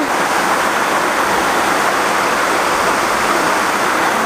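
River water flows at Ein Gedi near the Dead Sea in a close, constant rushing hiss that holds steady throughout, with no talk over it.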